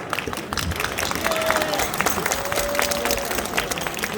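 A crowd at a political rally claps steadily, a dense wash of applause that holds at an even level throughout.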